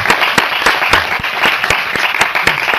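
A church congregation claps in praise, a steady, loud burst of rhythmic hand claps filling the space, close and sustained with no talk over it.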